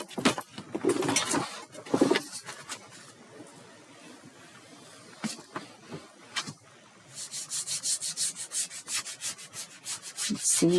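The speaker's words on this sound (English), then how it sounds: "You can hear the tooth as I'm running my fingers over it." Fingertips rub chalk pastel across heavy, toothy paper in repeated dry scratchy strokes, close and fairly quiet, the rasping growing into a steady rhythmic series of rubs toward the end.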